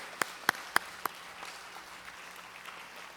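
A church congregation at a Friday evening service gives a few sharp, faint hand claps close together at the start, then the sound fades into quiet room tone.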